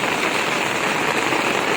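Heavy rain pours down steadily and loudly, a dense continuous hiss with no pauses and no voices.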